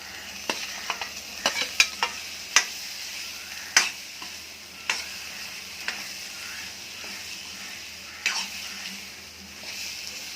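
Drumsticks sizzle steadily in hot oil and masala while a utensil scrapes and clinks against the pan every second or two.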